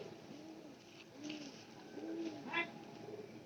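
Pigeons coo in a soft, repeated rhythm of low rolling calls, fairly close, with a brief higher chirp partway through over a light background hiss.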